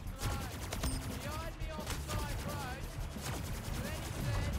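Rapid gunfire from the fast-paced Splitgate video game, with repeated bursts of shots over a busy mix of game effects, steady and fairly loud throughout, with a voice talking underneath.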